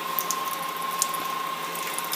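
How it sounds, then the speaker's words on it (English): Sparge water trickles into the mash during homebrewing of a porter, a steady, even hiss of running water with faint clicking mechanical ticks, no voices. "I got a nice little trickle of water coming in here"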